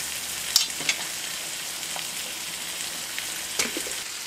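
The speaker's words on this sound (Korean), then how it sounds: "다시 프라이팬으로 돌아와서 마지막으로 토마토도 넣어줍니다." Tomatoes sautéing in a frying pan, with a steady hiss of sizzling and a few light clicks and scrapes of stirring.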